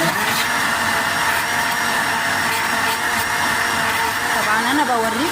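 Electric mixer beating cake batter with sugar for a homemade tea cake, a steady loud whirring drone held evenly throughout, with someone talking over it.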